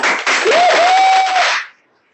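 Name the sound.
audience applause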